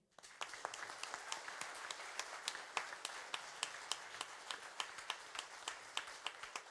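An audience claps steadily after a band's song, a tribute show, with sharp individual claps over a continuous wash of applause that holds to the end.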